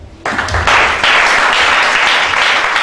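A church congregation breaks into loud, sustained applause that starts abruptly and fills the room with dense, even clapping, close and continuous until the end.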